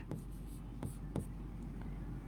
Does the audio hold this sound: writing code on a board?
yes